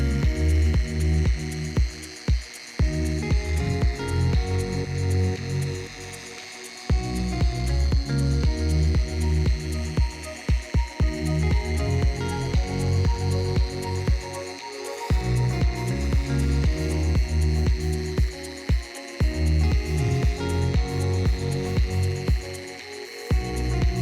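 A 25mm dual action polisher works over car paint with a steady, close droning whir, briefly cutting out and restarting a few times, with no voices.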